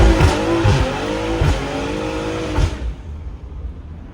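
A BMW M340i on drag radials launches hard, its engine roaring loud and close while the tires spin and squeal in repeated bursts, then the sound cuts off abruptly into quiet.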